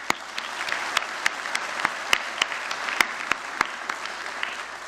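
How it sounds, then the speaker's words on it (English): Graduates at a 2018 Mohawk College engineering technology convocation applaud themselves with steady, even clapping from a large crowd, sharp individual claps standing out above the continuous wash of applause. "Give yourselves a round of applause."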